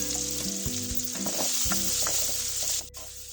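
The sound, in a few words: onions sautéing in a pan with chili powder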